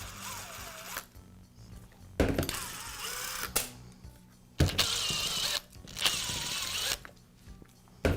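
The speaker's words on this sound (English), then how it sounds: "Then I can go ahead and remove the wires." Wires are pulled off the switch of a Makita demolition hammer, making short bursts of close plastic rustling and clicking with quiet pauses between them.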